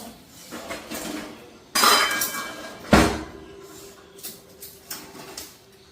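Two metal spoons clink against a drinking glass in a home, giving scattered light taps and two louder, ringing strikes close up, with quiet handling noise in between.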